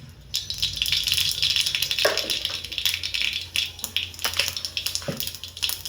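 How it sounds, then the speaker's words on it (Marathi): Mustard seeds hit a hot pan for a ridge gourd curry, setting off a close, busy crackling and spattering that stays loud and dense, with irregular sharp pops throughout. "आता आपल्याला प्रथम बघा मोहरी टाकायची आहे यामध्ये."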